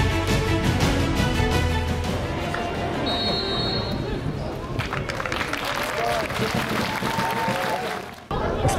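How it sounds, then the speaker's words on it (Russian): Crowd noise and clapping from an audience at the opening ceremony of a football match between the Tuva and Khakassia teams, a steady dense roar sustained throughout before dropping away at the very end. "Ваши аплодисменты."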